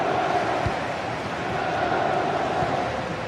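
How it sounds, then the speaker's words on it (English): A stadium crowd in a football video game roars in a steady, continuous wash of cheering and chanting, loud and unbroken throughout with no distinct pauses. "the crowd is certainly trying to motivate the team to push them forward to get the equaliser"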